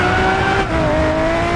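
Steady car engine drone from a mobile racing game, loud and sustained at a fairly constant pitch with a slight dip and recovery partway through, no speech over it.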